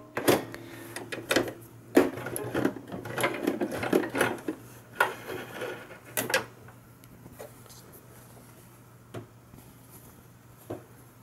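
Sewing machine stitching a side flap on a fabric face mask, running in several short bursts of needle clatter with pauses between, close and fairly quiet, with occasional handling knocks and no talk.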